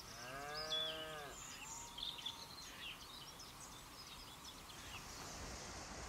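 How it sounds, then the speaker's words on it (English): A grazing cow in the Irish countryside gives one drawn-out moo near the start, followed by faint outdoor ambience with scattered distant bird chirps and no talk. "Cows were grazing."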